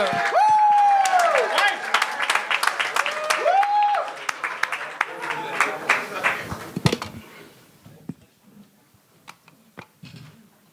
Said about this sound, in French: Mesdames et messieurs, commencez à applaudir dans 5, 4, 3, 2, 1.